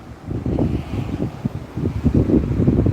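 Gusty wind buffets a microphone outdoors on a wet, cold day, producing low, rumbling bursts that rise and fall continuously for the whole stretch with no talk.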